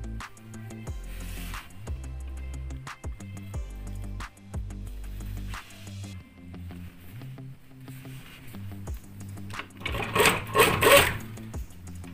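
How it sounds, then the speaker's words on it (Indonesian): A sewing machine stitches a bergo hijab in short bursts of motor hum broken by pauses, with clicks and fabric handling between runs and a louder rustle near the end. "Untuk bagian yang bolong ini kita rapikan dengan menjahit kembali."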